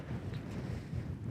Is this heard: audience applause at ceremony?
no